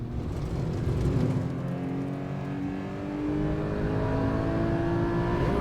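A McLaren in a sim racing video game gives a continuous engine whine that climbs steadily in pitch as it accelerates, over a dense mechanical rumble, with no talking.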